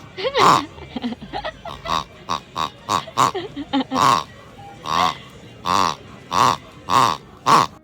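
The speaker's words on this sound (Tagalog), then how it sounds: "tuwang-tuwa talaga ako sa tunog ng baboy na to." A pig toy in a Donki store gives off a run of squeaky oinking grunts, about a dozen short repeated honks in quick succession, close and loud, with a few soft voices in between.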